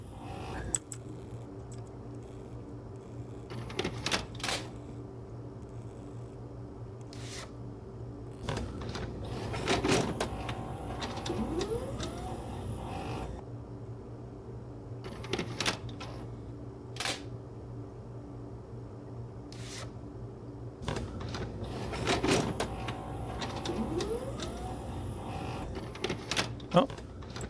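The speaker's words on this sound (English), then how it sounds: "But yeah, the VHS sounds, those were the ones I was talking about." Mechanical VHS tape machine clicks, whirs and clunks from a video store game, sounding as scattered sharp ticks and short motor whines over a steady low hum, with someone talking intermittently.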